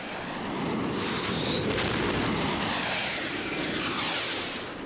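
Israeli fighter aircraft attacking Egyptian airfield runways: a continuous loud roar of jet engines and explosions, rumbling broadly and swelling slightly before easing off.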